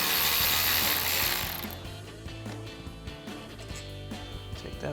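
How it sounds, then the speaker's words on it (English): A hand ratchet with a 12 mm socket works loose a brake caliper bolt on a 1999-2002 Mustang, giving a loud burst of rapid pawl clicks and then a slower run of separate, close clicking strokes. "again using our 12 mil socket on our ratchet"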